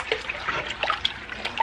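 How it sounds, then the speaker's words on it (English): Water pouring into a pot of ham and bean soup, a bright splashing trickle with small bubbling plops, close and continuous, with no voices. "So I'm going to go ahead and add some more water."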